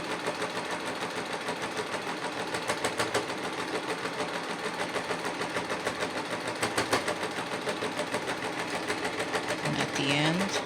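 A domestic sewing machine stitches fabric in a fast, steady mechanical whir with rhythmic needle clatter, close up, slowing slightly near the end while someone talks over it.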